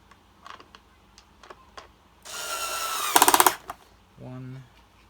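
A power screwdriver drives screws into the top cover of a Hoover Turbopower vacuum cleaner. The bursts are loud and close, one long whir followed by a short one, with scattered clicks and handling noise around them.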